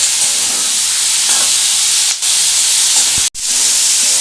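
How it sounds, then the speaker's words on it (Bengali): Food frying in a pan while paneer is being cooked: loud, steady, close hissing sizzle with a brief break near the end. "বন্ধুরা দেখো এটা আমি একটু ভাজছি"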